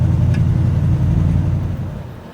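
A 1965 Chevy C10 pickup with a 283 V8 drives along, its low engine rumble steady and close before gradually easing off and fading slightly toward the end.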